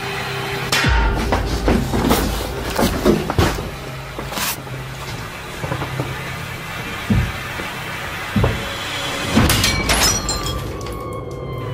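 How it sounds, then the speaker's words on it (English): A wardrobe mirror bursts in a haunted house, with several sharp cracking and crashing impacts of breaking glass spread across a dark, rumbling background and no speech. "mirror on the wardrobe burst outward, sending sharp shards of glass flying"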